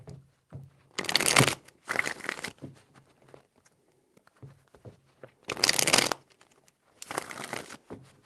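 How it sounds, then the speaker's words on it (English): Tarot cards riffled and shuffled by hand in four brisk bursts of papery flutter, each about half a second, separated by quiet pauses with soft handling taps, close and clear without talk. "Four shuffles."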